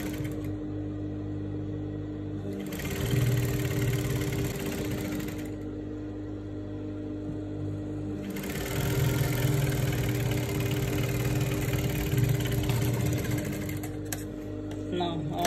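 A sewing machine stitches skirt panels for a mini pencil skirt, whirring in two sustained runs separated by a short pause, over a constant low hum from the machine's motor.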